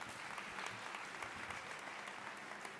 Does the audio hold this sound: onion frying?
no